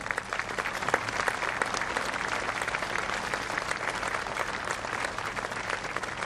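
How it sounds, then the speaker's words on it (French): Sustained, dense applause from an audience honouring the winners of a cycling race, the Tour Air France 2017, steady and loud for the whole stretch with only faint crowd murmur beneath. "On les applaudit à nouveau très fort."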